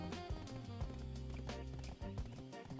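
A horse in Black Desert Online undergoing horse training: steady clip-clop hoofbeats with an occasional whinny, running under continuous game music.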